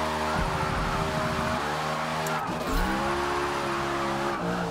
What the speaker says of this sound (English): Man, we are just smoking these tires.